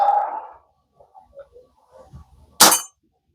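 CO2 air pistol pellet striking a steel lug nut from a Ford Expedition wheel set up as a target: one sharp, bright metallic clang near the end, after soft handling noises and a brief earlier murmur.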